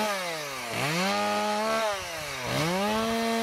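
A chainsaw revs and bogs down as it bites into wood on a farm, its pitch dropping and rising twice in a loud, close, continuous whine.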